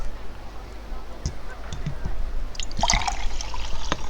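Water being liquefied in RollerCoaster Tycoon 2 gives soft, faint trickling and dripping game sounds with a few small splashy blips, set against a low steady hum.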